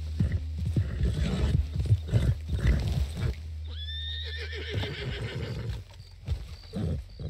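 A horse in Red Dead Redemption 2 lets out one long, loud whinny midway, preceded and followed by thudding hoofbeats and faint ambient noise, with no talking.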